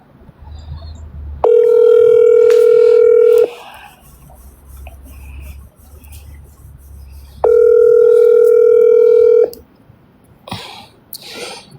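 A steady telephone ringback tone sounds twice while a call is placed, each loud flat tone lasting about two seconds, separated by a quiet pause with faint room noise.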